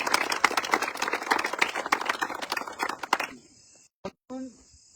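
A crowd claps loudly and steadily for Prasad Dada at a Lokshakti Foundation community event, dense applause lasting about three seconds before breaking off, followed by a few brief isolated sounds.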